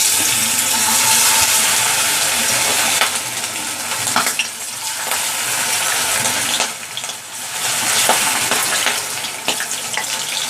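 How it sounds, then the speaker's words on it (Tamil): Marinated prawns frying in hot oil, a loud, continuous crackling sizzle with small surges and dips throughout, with no talking over it. "இதை வந்து இப்போ எண்ணெயில் பொரிச்சு எடுக்க போகிறோம்."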